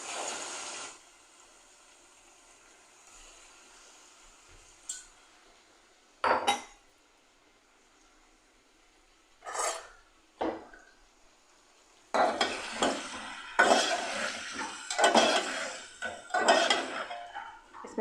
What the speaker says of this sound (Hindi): उसमें ये मैं गोश्त शामिल कर रही हूँ।